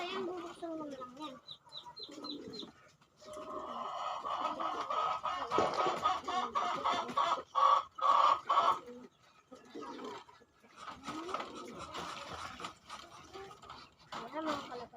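Domestic pigeons cooing and murmuring in a coop, soft repeated coos with bursts of wing flapping, fairly close, with a person talking at times.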